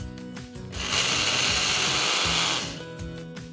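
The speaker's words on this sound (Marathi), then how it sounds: "हा मिक्सरमध्ये पहिले फिरवून घेऊयात" A kitchen mixer grinder whirs as it grinds soaked sago with chilli pieces and ginger slices. The motor spins up, holds a loud, high whine for about two seconds, then winds down, with rattling pulses before and after and no talking.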